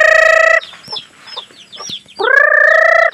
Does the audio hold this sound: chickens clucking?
yes